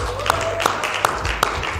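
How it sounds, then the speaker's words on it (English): A team gives itself a round of applause at a Breakfast with the Brand morning gathering, heard as a handful of sharp, evenly spaced claps, about four, over steady background noise. "Give yourself a round of applause"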